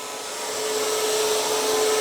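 A Bissell CrossWave cordless wet-dry vacuum runs in carpet mode, a steady loud motor whine and airflow roar that swells slightly at the start and then holds constant, with no talking.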